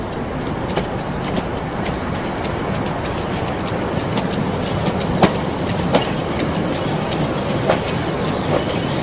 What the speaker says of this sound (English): as a second train approaches